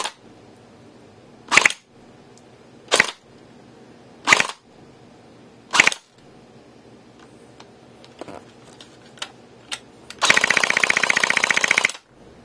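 An S&T PPSh-41 airsoft gun firing 0.2 gram BBs: four separate loud single cracks spaced about a second apart, a few lighter ticks, then a sustained full-auto buzzing burst of nearly two seconds, close and with no talk.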